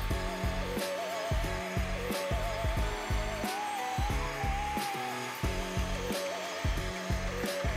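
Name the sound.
PerySmith spot cleaner sucking water out of sofa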